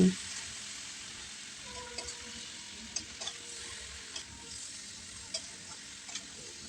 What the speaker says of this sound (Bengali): এইবার নাড়াচাড়া করে নেব আবারও দু মিনিট মতো নাড়াচাড়া করে নিচ্ছি